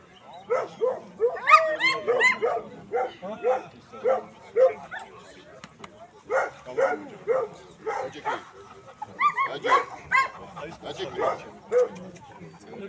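German shorthaired pointers bark in a steady run of sharp, close barks and yips, with someone talking intermittently in the background.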